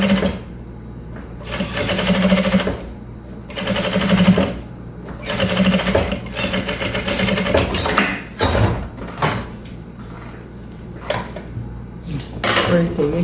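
A sewing machine stitches a cosmetic bag, running in bursts of rapid mechanical chatter broken by short pauses as the fabric is guided, close and fairly loud.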